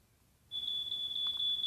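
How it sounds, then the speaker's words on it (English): A smoke detector sounds a sharp, high-pitched electronic alarm tone that starts suddenly and holds steadily with slight pulsing, close and loud, with no talking. "Shut up, smoke detector, shut up."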